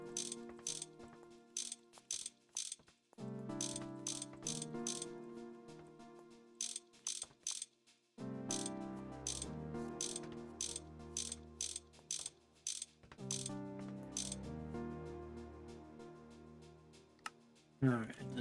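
Wrench ratcheting on machines in the GregTech Minecraft modpack, crisp repeated mechanical clicks in quick bursts, some sharp metallic clanks, loud and close, with a voice talking over parts of it.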